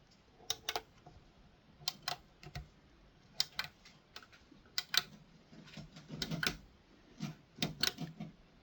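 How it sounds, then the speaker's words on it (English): Irregular sharp clicks, a dozen or so, scattered over several seconds at close range, footswitches being pressed on a Hotone Ampero Stage II guitar effects unit, with no talking. "I do notice a different sound from one of the switches"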